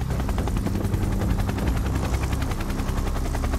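An Indian Air Force military helicopter at a high-altitude helipad on the world's highest battlefield gives a loud, close, rapid rotor chop over a heavy engine roar, steady and continuous throughout.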